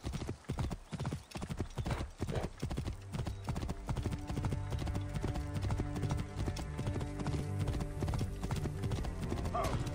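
Horse hooves clip-clop loudly and continuously in Assassin's Creed Origins, a fast steady trot up close, with someone talking over it.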